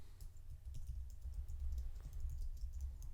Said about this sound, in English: And I'm just going to type in, hey Kev, check this out.